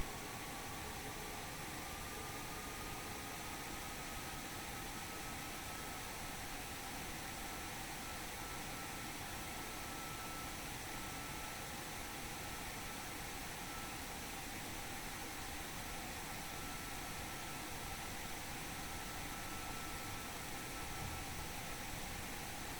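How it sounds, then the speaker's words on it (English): Loud room air conditioning, a steady unbroken broadband hiss and hum that runs alone at even level for the whole stretch. "Yes, the aircon is pretty loud."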